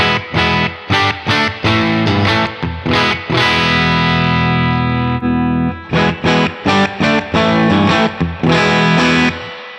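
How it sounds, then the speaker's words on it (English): An electric guitar played through a Universal Audio Paradise amp simulation with a 1x12 Oxford cabinet gives distorted, effected chords in choppy staccato bursts, with one sustained ringing chord near the middle. The tone is loud and close, with no voice. "Let's go for the 1x12 Oxford, and that sounds a little bit like this"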